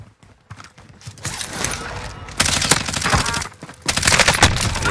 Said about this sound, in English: We got guys shooting shotguns in Big Bertha?